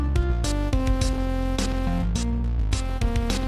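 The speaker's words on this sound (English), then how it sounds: "the interlude section has this like plucky sound like this" Plucky synth notes in a game-music interlude over a full band backing in 4/4, short bright plucks repeating in a quick rhythm above steady low bass and drums.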